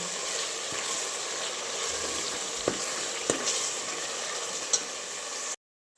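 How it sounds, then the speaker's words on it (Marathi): Tomato and onion paste fries steadily in oil, a continuous close sizzle with a few soft stirring taps and scrapes, running alone before cutting off near the end. "टमाट्याची आणि कांद्याची पेस्ट चांगली भाजली गेली आता साईडला तेल सुटायला लागले"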